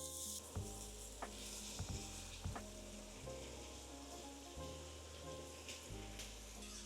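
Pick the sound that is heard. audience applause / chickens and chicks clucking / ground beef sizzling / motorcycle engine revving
ground beef sizzling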